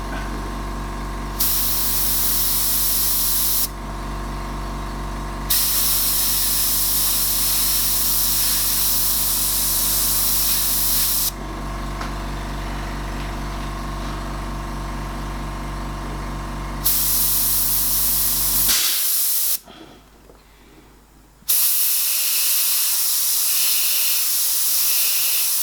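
An airbrush sprays paint in long, steady hissing bursts, switching on and off several times with short pauses between. A low compressor hum runs underneath, and a louder hiss comes near the end.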